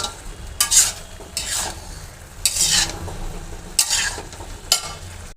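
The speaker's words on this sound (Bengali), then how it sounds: "শিম নিছি, আলু নিছি, ফুলকপি নিছি, টমেটো নিছি, নিয়ে ওই দিক দিয়ে কষাইয়া রান্না করব।" Fish curry with beans, potato, cauliflower and tomato cooks in a pan, with bursts of scraping stir strokes over a low background sizzle, close up and without talk.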